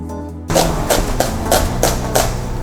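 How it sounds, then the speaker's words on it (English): Knife chopping peeled shallot finely on a board, a steady series of about six firm thuds spaced roughly a third of a second apart, close and fairly loud. "So we'll peel the shallot and then chop it really finely."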